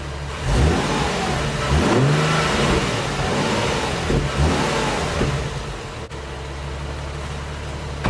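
An Infiniti G37 engine fitted with Stillen Gen 2 intakes revs hard several times, rising and falling in pitch with loud bursts, then settles back to a steady idle.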